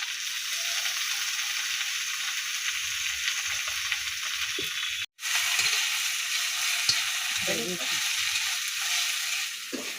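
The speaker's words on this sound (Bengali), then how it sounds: "লঙ্কা দিয়ে দিলাম।" Chillies frying in hot oil, a faint steady hiss with soft scattered rustles and a brief dropout partway through, quiet and without speech.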